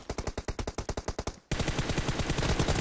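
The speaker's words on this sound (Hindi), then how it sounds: "मावी हेडशॉट आ मार दे रहा, खोपड़ी फोड़ दे रहा गिल की" Rapid automatic gunfire from a video game team deathmatch, first a fast burst of distinct evenly spaced shots, then a denser continuous stream of fire, loud and close.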